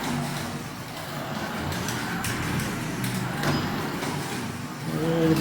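Carrera digital slot cars run on a track with a continuous, steady electric motor whine and rolling rumble, rising slightly toward the end, with no speech over it.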